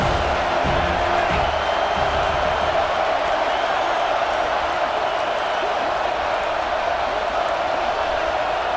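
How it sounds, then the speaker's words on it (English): A large football stadium crowd roars in a steady, dense wall of cheering, loud and continuous, with a commentator's voice talking over it. "This crowd rising up, sensing that its defense needs some help."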